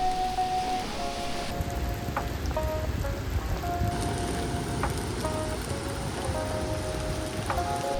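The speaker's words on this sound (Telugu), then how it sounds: "వాన పడుతుంది" Rain falling steadily at Chirala Beach makes a continuous broadband hiss for the whole stretch, with scattered faint tonal chirps and short clicks on top.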